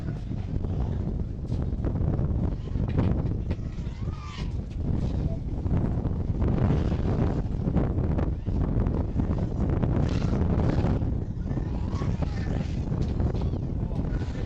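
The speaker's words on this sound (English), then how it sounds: "Wind is terrible." Strong wind buffets the microphone outdoors at a multirotor drone racing event, a loud continuous rumbling roar throughout with a voice speaking faintly over it.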